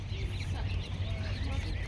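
Several yellow duckling chicks, part of a crowd of young birds up for sale, peep and chirp together in a busy chorus close by, with background noise underneath.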